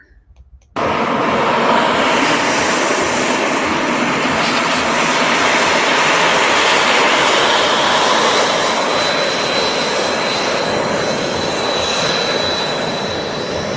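A large RC model MiG-15 jet flies past, its engine starting abruptly as a loud, steady broadband roar that holds for over twelve seconds and fades slightly toward the end.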